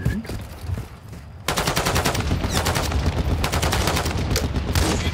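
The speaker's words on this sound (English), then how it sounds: "Yep, they're shooting somebody right there." Call of Duty Warzone gunfire, a few shots then a long rapid automatic burst of loud, dense rattling that keeps going, with a voice faintly beneath at the start.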